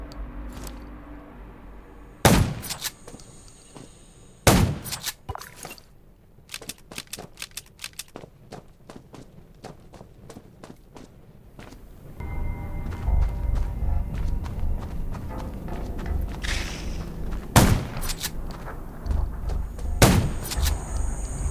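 Sharp gunshots crack out at irregular intervals amid clattering footsteps and thuds, then a rumbling ambience rises under further shots, in the zombie video game Undawn.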